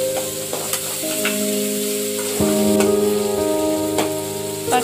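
Ginger garlic paste sizzles steadily in a hot pan with tomatoes while a Tamil-style brain fry is being made, a continuous close frying hiss with a few faint clinks, and no speech.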